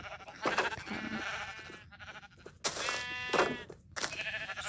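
Sheep bleat repeatedly in a farming video game: several long, wavering bleats come close and fairly loud, one after another with short gaps between them, and no talking is heard.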